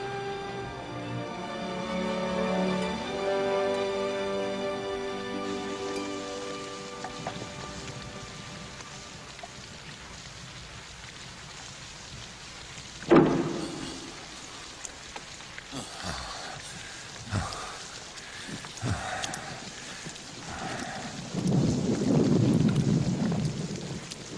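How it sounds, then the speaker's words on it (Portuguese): A thunderstorm with rain, a sharp crack of thunder near the middle followed by scattered rumbles and a heavier low roll toward the end, over a steady wash of rainfall; music-like tones linger at the start. "Ora, Baal nos enviou a chuva."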